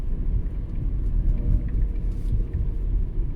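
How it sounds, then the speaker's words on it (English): Cars drive along a long road toward the city, heard as a steady, low rumble of road traffic from inside a moving vehicle. "Hence the reason why you can see so many cars plying."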